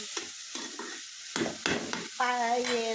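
Carp fish bhuna cooking in a pan comes through as separate bursts of scraping stirs and sizzling with quiet gaps between them, ending in a longer, louder stretch of frying.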